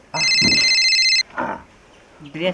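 A telephone rings with a loud electronic trill for about a second, then pauses, while people talk around it.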